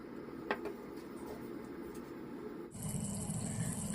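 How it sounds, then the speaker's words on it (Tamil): A pot of water with a little oil comes to a boil for cooking pasta, a steady, soft bubbling hiss that grows fuller and brighter partway through. "தண்ணி நல்லா கொதிக்க ஆரம்பிச்சிச்சு."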